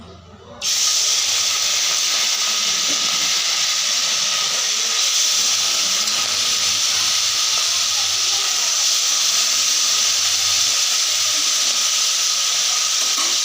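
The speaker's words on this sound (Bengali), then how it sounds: "মাছগুলো আমি ভেজে নেব" Fish frying in hot oil in a wok: a loud, steady, close sizzling hiss that starts abruptly after a brief quiet moment and holds evenly to the end, with no talking.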